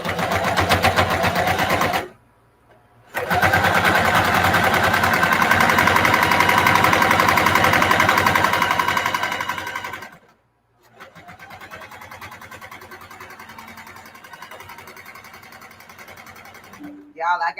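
A sewing machine stitches thick fabric for a nursing pillow, running loud and fast in bursts with short stops between them.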